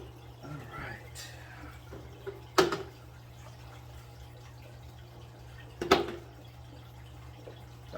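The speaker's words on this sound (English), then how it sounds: "Got some warm water in there." Warm water goes into a home fish tank during a water change after an ich outbreak, as two short splashing bursts a few seconds apart over a faint, steady background hum.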